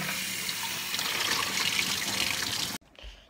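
A pet water bowl is rinsed under a running sink tap: a loud steady rush of water that stops abruptly near the end, followed by a faint clunk as the bowl is handled.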